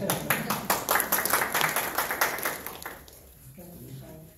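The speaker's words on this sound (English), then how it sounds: "Let's clap" Panel audience clapping after a personal story at a young adult panel, a loose burst of distinct claps that fades out after about three seconds, followed by faint voices.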